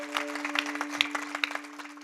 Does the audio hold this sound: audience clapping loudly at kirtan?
yes